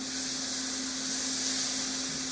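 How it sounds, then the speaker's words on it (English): Fresh tomato sizzles in a pan, a steady broad hiss of frying that holds evenly throughout, close and moderately quiet, with a faint constant hum beneath it. "We're gonna hear some sizzle"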